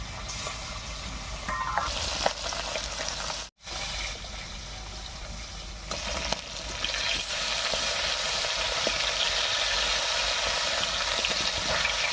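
Bata fish fry in hot mustard oil in a kadai, a loud continuous sizzle with a sharp momentary dropout before the frying swells back even louder and steadier, with no voices.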